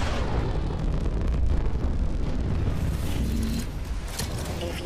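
A main engine burn in a video game roars as a loud, continuous rumbling blast, steady for several seconds with no talk over it.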